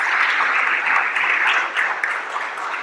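Conference audience applauding in a hall, a dense, steady wash of clapping that holds at an even level from start to finish with no voices breaking through.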